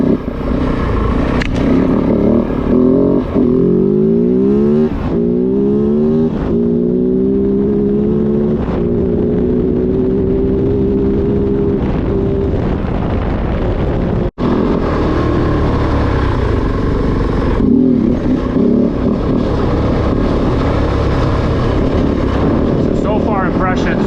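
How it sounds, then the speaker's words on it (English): Kove 450 Rally dual-sport motorcycle engine running loud and steady throughout a ride on British Columbia singletrack, with rising and falling revs as it accelerates, heard up close under wind rush. "because this is a very loud motorcycle."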